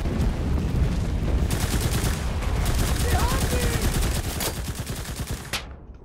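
Gunfire in the shooter Enlisted: a rapid, sustained stream of machine-gun shots, loud and steady for several seconds before cutting off, with some faint voice underneath.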